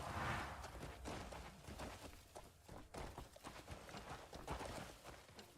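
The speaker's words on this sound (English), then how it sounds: "Fucking horse." Horse hooves clip-clop in a steady walking rhythm on a path in a video game, fairly near and continuous, with background game ambience.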